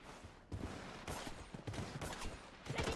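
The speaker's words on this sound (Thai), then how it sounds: "ตรงนี้มีคนยิงเหรอ" Rapid gunfire bursts from the Blood Strike video game, several volleys of automatic shots in quick succession with no pauses in between.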